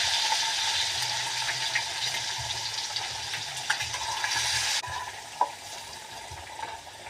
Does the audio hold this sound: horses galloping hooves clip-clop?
no